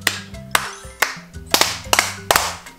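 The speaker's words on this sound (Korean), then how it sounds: "박수 세 번 시작." Children in a kindergarten classroom clapping hands in sharp group bursts, several distinct claps ringing out at a moderate pace, fairly near and with a faint murmur of voices between them.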